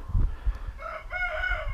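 Chickens cluck on a farm as a rooster crows close by, its drawn-out call rising and falling over the second half while low clucks and scratching sounds fill the start.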